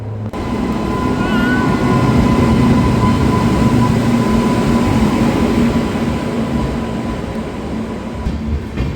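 A loud, steady rumble of a train departing a station close by, with a continuous mechanical drone and faint squeals throughout.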